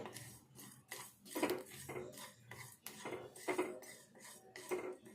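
Horse gram and other ingredients being stirred and dry-roasted in a metal pan for a traditional old-style ulava charu, with repeated scraping and clinking of utensil against pan in an irregular rhythm, close and moderately loud, with no talk.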